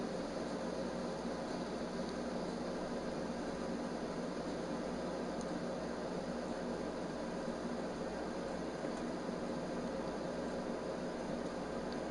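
A PlayStation console fan whirs steadily, a constant broadband airy drone with no variation, fairly faint and alone with no voices.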